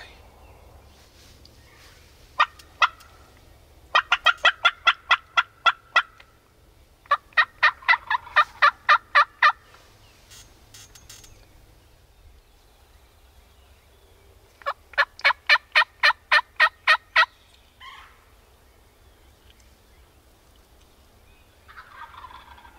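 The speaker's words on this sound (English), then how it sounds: "We've got a big one gobbling to our right, a few hundred yards away." A wild turkey gobbles repeatedly during a spring hunt, several loud rattling bursts from a few hundred yards off, separated by pauses, with quieter calls and outdoor ambience between them.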